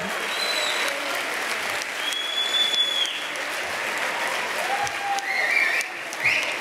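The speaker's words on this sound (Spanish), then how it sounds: "Un aplauso para todos ellos, por favor." An audience at an inaugural gala for the Ceuta Skills competition in the Revellín applauds, a steady moderate clapping crowd with a few brief whistles and cheers rising over it.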